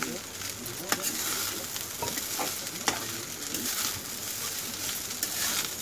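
Paneer rice with chopped green coriander being stirred and mixed in a hot pan on a gas stove, a soft continuous sizzle with scraping spoon strokes and a few sharper clicks, no voice.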